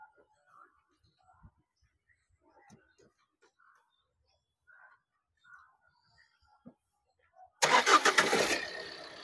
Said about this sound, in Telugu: ఒకసారి ఇంజిన్ కూడా స్టార్ట్ చేసి చూపిస్తాను మీకు నేను.